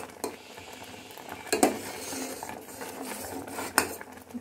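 A spoon stirs rice kheer made from ground rice in a pot on the stove, producing steady close scraping with a few sharper clinks against the metal over a low simmer.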